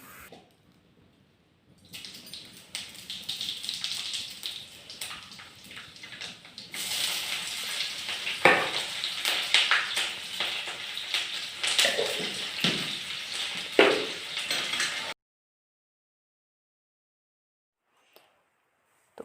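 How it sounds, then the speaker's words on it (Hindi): Mustard oil sizzles as a tempering (tadka) is added to dal, a hissing crackle that starts softly, swells into loud, bursty frying, then stops abruptly into near silence. "जो सरसों का तेल है उसका तड़का लगा रही हूँ मैं"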